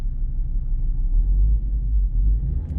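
Car engine idling with a steady low rumble that holds loud and constant, swelling slightly as the throttle is opened during a scan-tool sensor check.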